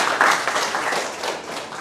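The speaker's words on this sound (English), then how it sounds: "Let's give a warm round of applause to Ms. Aakansha." An audience at a tech conference claps for a speaker, a short burst of dense applause that swells at the start and then gradually fades.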